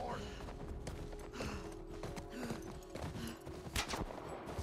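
Horse hooves clip-clop in The Last of Us video game, a quick rhythmic patter of footfalls mixed into busy game sound while a player talks over it.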